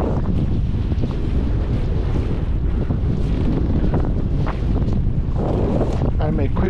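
Strong outdoor wind buffeting the microphone while a fishing net is checked at Pigniq, a loud continuous roar and rumble throughout, with faint voice-like sounds near the end.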